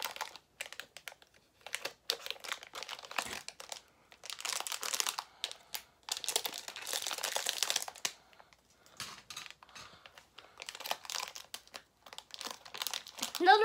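Plastic packaging of Fortnite merchandise crinkles and rustles in bursts with small scissor snips and tearing sounds, close up, pausing briefly between handling.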